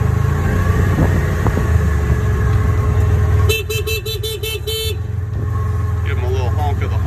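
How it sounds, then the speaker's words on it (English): A vehicle horn sounds in a quick run of short honks at a herd of cows on a ranch, loud over a steady engine rumble, followed by a brief second burst a moment later. "Give them a little honk of the horn."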